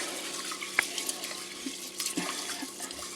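Running water splashes into a sink as rice is rinsed by hand, a continuous hiss of flowing tap water with a few small knocks and clinks, close and moderately quiet.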